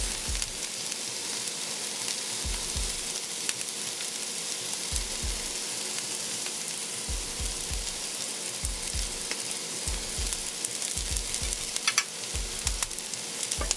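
Curry leaves dropped into hot oil with chopped garlic and hot pepper, giving a steady, dense sizzle with regular soft stirring thumps underneath.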